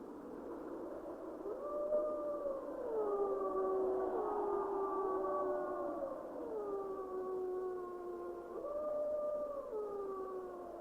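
Northwestern Canadian timber wolves howl as a pack, several long overlapping wavering calls rising and falling together at a distance, steady and fairly faint throughout.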